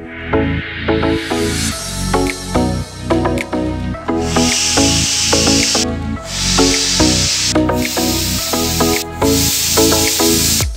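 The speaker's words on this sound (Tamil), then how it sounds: "இப்போ 4 விசில் வரைக்கும் வேக வச்சு எடுத்துக்கலாம்" A pressure cooker cooking rice porridge lets out loud, hissing whistle bursts in repeated blasts, separated by brief pauses, over steady background music.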